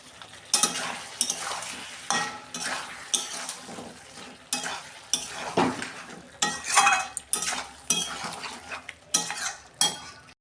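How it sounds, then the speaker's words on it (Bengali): Chicken meat is stirred and sautéed in a pan, giving repeated scraping strokes of a spatula against metal over a soft sizzle, the bursts coming in an irregular rhythm close by, with no talking. "মাংস কষানো হয়ে গেছে"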